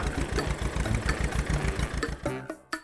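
A tractor engine runs close by with a steady, chugging mid-pitched putter, then the rhythm breaks into a few uneven knocks and bursts near the end, with no talking.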